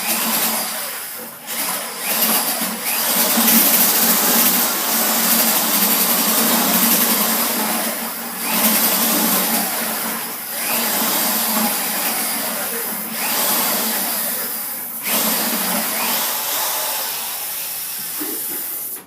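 A power mixer stirring ceramic glaze gives a continuous, fairly loud whirring drone with slight surges and dips over about nineteen seconds, running alone with no talk.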